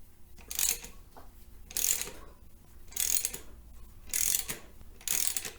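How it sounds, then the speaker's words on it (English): A ratchet fitted with a 21mm socket works a harmonic balancer bolt loose on a Dodge, Jeep, Chrysler or Mitsubishi engine, giving five evenly spaced bursts of rapid clicking with short quiet pauses between them. "Using a 21mm socket."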